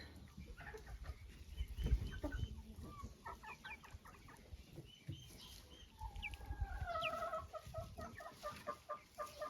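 Chicken hens cluck and chatter around a rooster in a busy farmyard, with scattered calls overlapping against a soft outdoor background.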